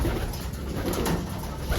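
Racing pigeons cooing in a loft in a steady, dense chorus, with continuous low warbling calls and background flutter filling the space throughout.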